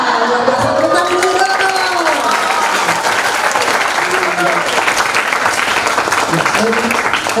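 Students at SMA Negeri 8 Batam clap together in a loud, dense burst of applause, with cheering voices woven through it throughout.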